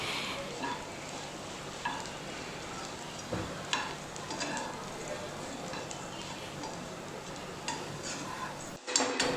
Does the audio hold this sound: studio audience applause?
no